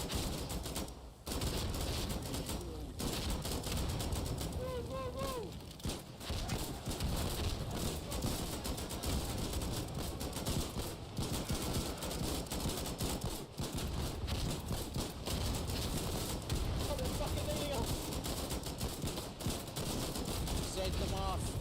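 Chaotic gunfire in the war game Foxhole, with rapid fusillades and repeated shots layered with clattering movement, loud and continuous with few breaks, while a voice talks over the action.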